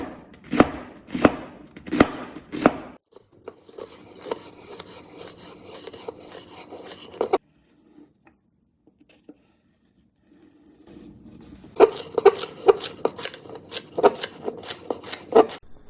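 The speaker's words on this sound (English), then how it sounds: "So let's chop up all of our trinity of vegetables, get them all diced up and ready" A knife chops the Cajun trinity of onion, celery and bell pepper on a cutting board for gumbo. A burst of sharp, regular chops is followed by rapid, rasping dicing. After a quiet gap, the quick rhythmic chopping resumes close by.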